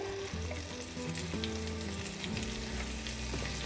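Paneer pieces with capsicum lightly frying in a pan for a quick paneer masala: steady close sizzling and crackling throughout, with a stirring scrape and faint background tones, no talking.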